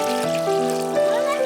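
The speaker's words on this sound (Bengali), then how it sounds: "পাস্তাটা সিদ্ধ হবে, জলটা দিয়ে দিলাম।" Water poured into a cooking pot to boil pasta in a village kitchen, a close, steady pour with a rising ringing tone as the pot fills.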